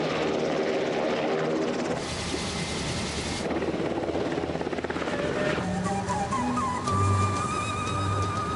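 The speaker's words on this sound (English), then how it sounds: "Our royal tour of Jordan begins in the king's private Black Hawk helicopter." Black Hawk helicopter in Jordan, its engine and rotor roaring loud and close throughout, a steady thrumming drone with a faint voice briefly underneath.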